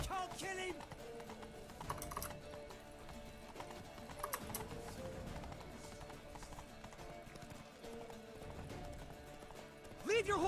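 Horse hooves clip-clopping in The Witcher 3, a steady rhythmic trot of game sound effects layered under music and other game audio, moderately quiet throughout.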